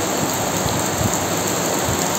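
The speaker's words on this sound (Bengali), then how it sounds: "দেখছো কত জোরে বৃষ্টি হচ্ছে" Heavy rain with wind, a dense, loud, steady hiss of rainfall across the whole moment, with no voices.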